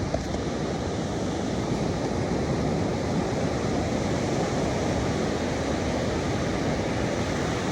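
Pacific Ocean surf roars on a beach in a constant broadband wash, with wind buffeting the microphone; loud and close, no voices.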